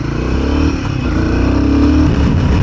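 A Royal Enfield Guerrilla 450 motorcycle riding on the road, its engine droning loud and steady close up with wind noise, no talking.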